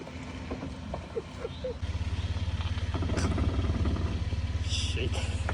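Toyota Land Cruiser (Lexus) engine exhaust, a low steady rumble that grows louder and throbs after the first couple of seconds, heard outdoors under faint voices and background noise.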